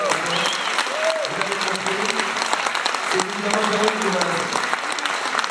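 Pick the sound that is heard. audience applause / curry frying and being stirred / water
audience applause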